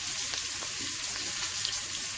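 Onion frying in butter in a pan gives a steady, quiet sizzle that hisses on without pause and with no voice over it.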